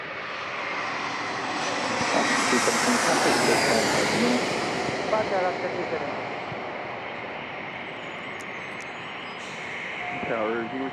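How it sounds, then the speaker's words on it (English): An Embraer E-175 jet airliner arriving from Alaska lands at San Diego International Airport, its engines rising into a broad roar that swells and then slowly fades, with a voice talking over part of it. "Another E-175 landing here from Alaska."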